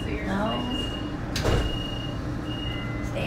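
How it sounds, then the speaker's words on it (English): The doors of an Oklahoma City streetcar slide shut with a short rolling glide and a firm thump at the end, close by, among a steady electric hum and brief chime tones. "Stand back. Doors closing."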